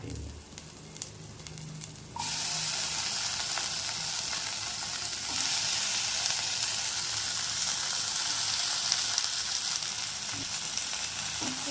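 Onions fry in a pan with a loud, steady sizzle, and after a couple of seconds the hiss swells sharply and stays bright and dense, the kind of burst that comes as chopped tomatoes hit the hot oil; no one speaks.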